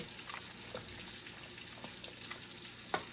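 Baked beans being mixed with Worcestershire sauce: quiet, wet scraping and occasional soft clicks of stirring, with a sharper knock near the end and no talk.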